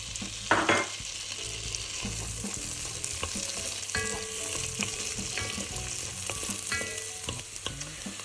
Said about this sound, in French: Je fais chauffer la matière grasse et j'y fais blondir l'oignon.